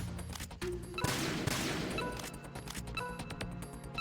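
A stun grenade goes off in Metal Gear Solid 2, and the burst of crackling noise is followed by sharp ticking impacts that sound like bullets striking a wall. Everything sits under a steady low game hum.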